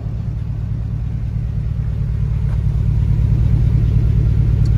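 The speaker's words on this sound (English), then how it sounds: "I did have the vehicle running so you can hear the exhaust." A 2009 Hummer H2 SUV with the Luxury Adventure package and air suspension idles steadily, its exhaust giving a deep, continuous low rumble that swells slightly toward the end, heard close with no talking.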